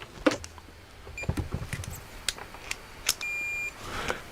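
A multimeter set to continuity mode gives short electronic beeps, ending in one sustained tone about half a second long, among light clicks and handling taps while a Hickok 6000A valve tester is being worked on.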